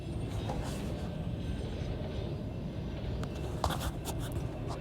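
Train rumbles steadily for several seconds, a continuous loud roll with faint clicking and brief high squeals of wheels toward the end.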